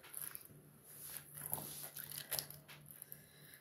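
A dog gnaws and mouths at something indoors, producing faint irregular crunching and soft snuffling sounds over a quiet background with a high electronic whine.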